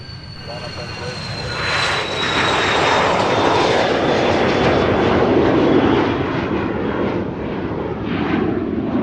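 A commercial airliner taking off at Luton Airport, a loud roaring engine rumble with a rising whine that swells as the jet rotates close in front, then holds steady as it climbs away.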